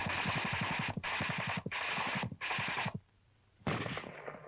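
Rapid bursts of automatic fire from a German tank's guns in an old WW2 U.S. Army training film, four rattling volleys separated by short pauses, loud and gritty with a vintage soundtrack hiss.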